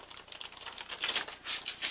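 A deck of flimsy tarot cards is shuffled up close, giving a quick, papery, rapid patter of card edges riffling in short bursts with no voice over it.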